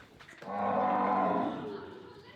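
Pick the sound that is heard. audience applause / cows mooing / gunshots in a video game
cows mooing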